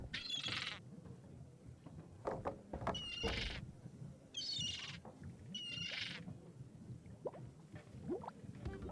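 Squawking bird calls from The Secret of Monkey Island, a few sharp bright cries spaced over steady game background sound, fairly close and moderately loud.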